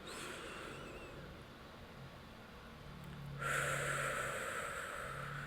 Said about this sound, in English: So take a deep breath with me now.